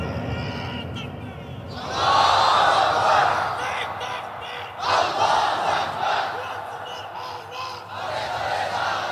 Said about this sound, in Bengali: এখন একটা স্লোগান দেন